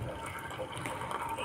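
Hot water pours steadily into a cup of milk with saffron and a little sugar, a brief close splashing stream with no talking.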